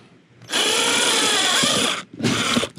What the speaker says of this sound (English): So that's where I drill the second hole.